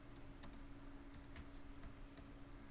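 Quiet typing on a computer keyboard, a faint, irregular run of light clicks and taps with no voices.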